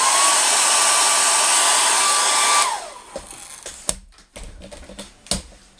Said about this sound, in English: how you can use a hairdryer, which is what I'm going to do now